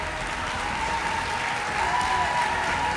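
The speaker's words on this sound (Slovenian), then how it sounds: "Prosim, da mi date en največji možen aplavz za naslednjega gosta" A crowd claps steadily and densely for a guest, Matic Novak, being welcomed on stage at a charity event, holding an even, full roar of applause for the whole stretch with no voices on top.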